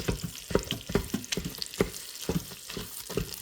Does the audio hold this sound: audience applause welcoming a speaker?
no